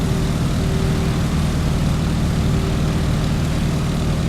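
Steady, loud propeller-engine drone of a PT-17 Stearman biplane in flight in Microsoft Flight, a constant low rumble with a sustained hum and no breaks.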